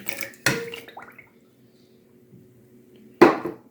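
A utensil stirs nitrite curing salt into a cooled duck marinade, giving a few sharp clinks and knocks against the pot, separated by a long near-silent pause before one last loud clatter.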